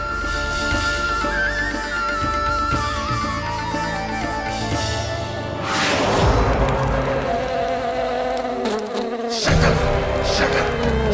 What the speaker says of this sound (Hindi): लगता है मक्खी थक गई है